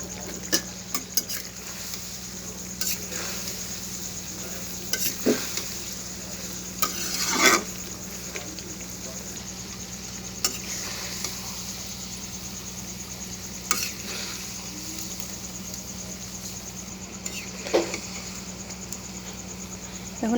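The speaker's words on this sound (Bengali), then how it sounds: "এটাকে ভেজে নেব যাতে করে আমড়াটা সুন্দরভাবে সেদ্ধ হয়ে আসে।" Hog plum pickle with panch phoron powder fries gently in oil while a spoon stirs it. A steady low sizzle runs throughout, broken by occasional sharp scrapes and clinks of the utensil against the pan.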